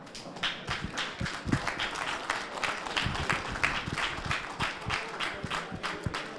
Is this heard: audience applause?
yes